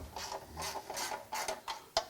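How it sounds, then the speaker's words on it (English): An 8mm socket wrench works the cover bolts off a small pressure-washer engine, making close, quiet ratcheting clicks in short uneven bursts with a sharper click near the end. "I have a 8mm socket, and we have 1, 2, 3, 4 bolts to take off"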